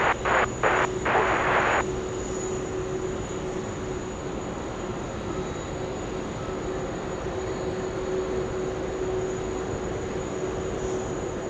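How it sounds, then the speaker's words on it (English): An airliner taking off from runway 16 right at Sydney Airport gives a steady, distant engine roar throughout, following a few short bursts of radio static at the start. "Singapore 212, runway 16 right, clear for takeoff"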